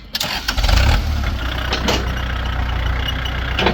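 A four-cylinder diesel engine on a Kubota L3608 four-wheel-drive tractor cranks and catches, then settles into a steady, loud low rumble at idle.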